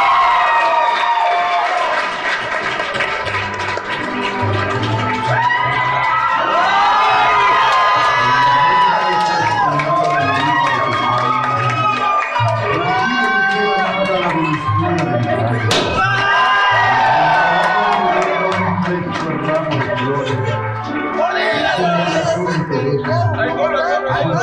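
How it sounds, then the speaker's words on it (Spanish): A live comedy podcast tour audience roars with cheering, whoops and shouting, a loud, dense crowd sound that holds steady throughout with voices mixed in. "Por favor, den un fuerte aplauso para esta persona a la que yo quiero y admiro muchísimo, Alex Fernández."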